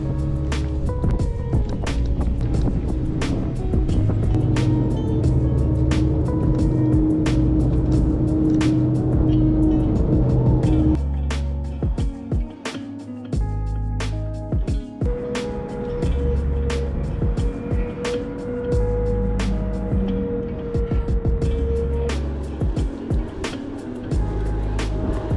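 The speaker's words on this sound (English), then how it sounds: "We are getting ready to get on the Fort Fisher Southport ferry right now." Vehicles board the Fort Fisher–Southport ferry in North Carolina as loud engine rumble and idling fill the scene, with car motors running and a deep steady drone, shifting partway through as engines change pitch, and no talk over it.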